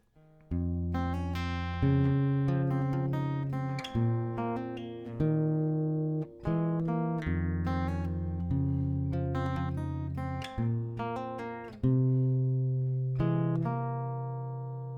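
A plucked acoustic guitar melody repeats in steady rounds, clear notes ringing over a low bass note, played alone with no voices.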